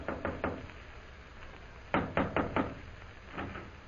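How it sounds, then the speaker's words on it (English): Knuckles rap on a hotel room door in a radio drama: a quick group of three knocks, then after a pause a louder set of four, with a softer knock near the end, crisp and close. "Jim hurries to the Central Hotel, goes to room 419, and knocks on the door."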